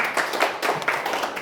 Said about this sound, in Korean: 박수 쳐드리고 싶은데.